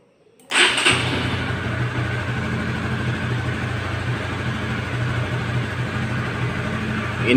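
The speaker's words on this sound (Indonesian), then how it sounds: "Kali ini saya kedatangan motor CB150R ya. Ini dengan trouble seperti ini. Kita coba nyalakan." Honda CB150R motorcycle with a running fault starts with an abrupt catch, then settles into a steady, close idle with a rough, throbbing rumble that builds slightly at the end.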